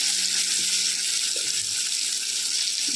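Half-fried food sizzles loudly and steadily in a pan just before greens go in, a dense close hiss with faint stirring knocks underneath.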